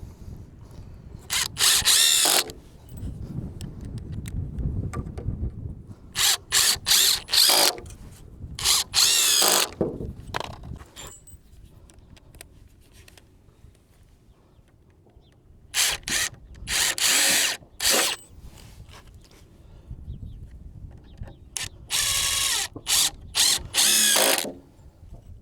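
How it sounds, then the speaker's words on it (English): Power drill driving screws at a new property, a series of short whirring bursts of a few seconds each, separated by pauses with quieter handling noise; fairly close and loud, no talking. "Can put some screws in."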